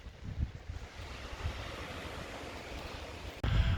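Surf washes onto a beach at Parsons Landing on Catalina Island, a steady roar with gusts of wind buffeting the microphone and a louder wave surge near the end.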